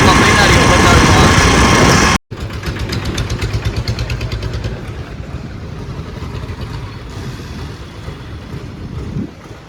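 A farm tractor's engine rumbles steadily nearby, loud at first, then briefly cut off and resuming as a continuous chugging drone that slowly fades somewhat.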